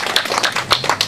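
Audience applause at a plaque dedication ceremony at a Florida Tech (FIT) university in Melbourne, a dense steady patter of many hands clapping at moderate level, with no talk.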